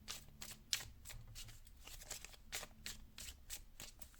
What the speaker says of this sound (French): je vais vous tirer une carte